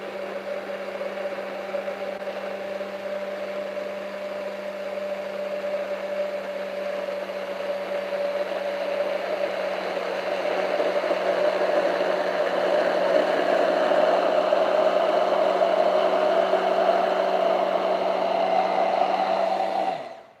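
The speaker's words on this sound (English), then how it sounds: "I'm gonna continue blending it" A blender whirring through vegan Greek Easter soup with nutmeg and vegan butter, a steady loud motor hum that swells slightly in the middle before cutting off at the end, with no talking.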